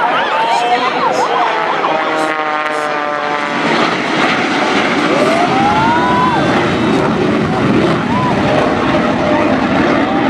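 Aftershock, a jet-powered firetruck, blasts off in a drag race against an airplane, a loud roaring jet rush swelling as a commentator talks over it.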